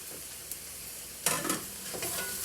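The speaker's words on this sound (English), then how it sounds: "And give it another stir." Sweet potato pieces sizzle in a soup pot for minestrone as they are stirred, with a low steady frying hiss and two louder scraping bursts of stirring near the end.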